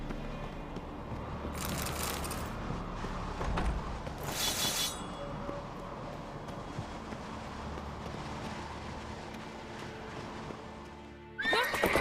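Horses in The Witcher 3 whinny twice in sharp bursts over a steady wind-like rumble and hoofbeats, with a third loud neigh right at the end.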